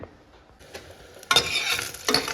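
Ingredients for banana flower rice being dry-roasted in a pan, starting quiet then rising into close, loud stirring scrapes and rustling bursts, with no talk.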